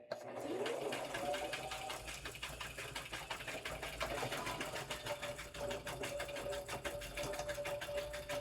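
Sewing machine stitching a quilt, a rapid even mechanical chatter running continuously at close range with a steady hum.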